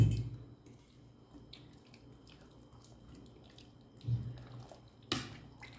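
Sesame oil pours from a bottle into mango pickle in a home kitchen, a soft liquid trickle with a couple of louder splashy bursts near the end, no talking.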